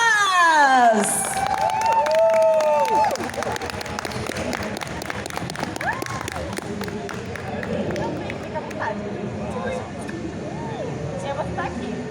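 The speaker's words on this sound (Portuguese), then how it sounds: "Palmas!" Applause and cheering rise from a crowd at an anime convention stage, loud at first, then settling into a steady rumble of clapping and crowd noise, with whistles and voices mixed in.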